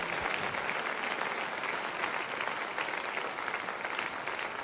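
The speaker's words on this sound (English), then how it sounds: "would you clap your hands to him one more time?" A church congregation claps together in sustained, dense applause, steady and fairly close, with almost no voices over it.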